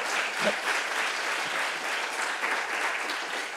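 A seated audience at the Fort Worth business plan competition finals gives a steady round of applause, a dense even wash of clapping heard from a slight distance, holding without a break for several seconds.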